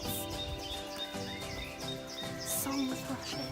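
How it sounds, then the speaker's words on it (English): A spring dawn chorus in Devon woodland, with blackbirds, blue tits and song thrushes: overlapping chirps and warbling phrases ring steadily at mid distance while a voice talks over them. "you've just got this absolute orchestra of birdsong"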